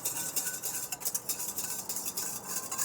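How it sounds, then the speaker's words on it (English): A spoon stirs white sugar into liquid in a bowl for a bakery dough, giving soft, steady scraping and light clinks against the bowl, close and fairly quiet, with no talking. "I'm just gonna stir that to let it dissolve."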